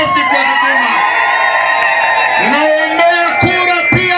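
A crowd at a CCM parliamentary campaign rally in Ikungi Mashariki cheers and shouts loudly and continuously, with rising whoops and cries stacked close together.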